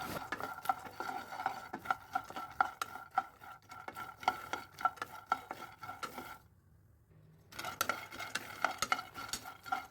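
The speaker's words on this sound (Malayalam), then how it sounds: "അപ്പോൾ നന്നായി ഒന്ന് ഫ്രൈ ചെയ്തെടുത്തിട്ട് വരാം." Peanuts are fried and stirred in a pan: a quick run of rattling scrapes and clinks from the spoon against the metal, briefly going silent midway, then the stirring resumes close up with no speech.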